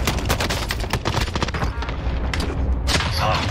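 Rapid gunfire and heavy airstrike blasts from the Warzone video game, loud and dense throughout, with a sharp burst near the end.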